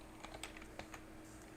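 Computer keyboard typing during an Ubuntu install, a quick run of light clicky keystrokes, uneven in rhythm, close by and fairly quiet, with no voices.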